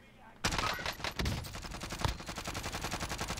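Gunfire in the Call of Duty Warzone game on the Caldera map: sharp bursts open after a short quiet, then rapid automatic fire rattles steadily through the rest, loud and close.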